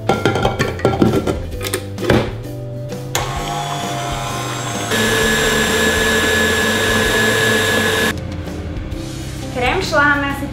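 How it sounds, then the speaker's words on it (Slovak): Whipping cream with an electric mixer for mini pavlova cakes, a steady loud motor whir that gets stronger in the middle and then drops back, with talking heard before and after. "Šľaháme asi tak minútku a pol, aby sa smotana na šľahanie stihla vyšľahať a krásne stuhnúť"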